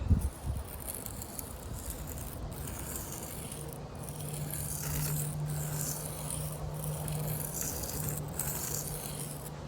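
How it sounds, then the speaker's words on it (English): A stone sharpens the heel of an Ozark Trail knife with a steady, quiet rasping scrape that runs almost without a break. A faint low hum sits beneath the grinding, which begins with a short knock. "Just some pinpoint sharpening on the heel"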